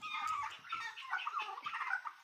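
Domestic turkeys in a farm enclosure, giving a steady run of close, high clucking and gobbling calls that overlap, fairly quiet with no talking.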